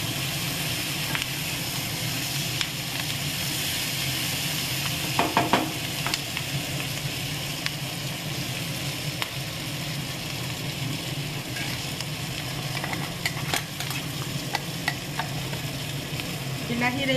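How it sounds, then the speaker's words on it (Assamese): Tomato puree fries in a hot pan with a steady close sizzle and hiss, broken by occasional stirring clinks and scrapes. "ফ্ৰাই হৈছে আমি এতিয়া ইয়াতে বিলাহীৰ পিউৰিখিনি দি দিম"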